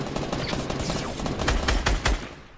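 Gunfire in the video game Fortnite, a burst of loud rapid shots with sharp cracks close together, ending in a few heavier booming hits.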